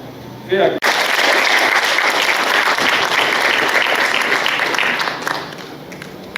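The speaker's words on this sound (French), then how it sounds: "Applaudissez très fort." A crowd at a doctoral thesis ceremony in medicine in Kinshasa bursts into loud, sustained applause after a brief voice, then slowly fades toward the end.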